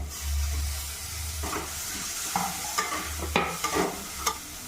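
Tomatoes with chopped ginger and garlic sizzle steadily in a pan for chickpea dal, with a spoon stirring and scraping against the metal in a few sharp knocks, close and clear with no talking.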